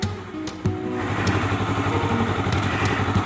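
A Honda CBR250RR motorcycle fitted with an aftermarket racing exhaust runs at a steady idle, close and loud, with a brief blip near the start and an even throbbing burble throughout, no voices.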